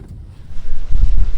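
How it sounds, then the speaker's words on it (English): Strong, cold wind gusts buffet the microphone beside a dock, a low rumbling roar that builds and grows louder toward the end. "it is so crazy windy and cold"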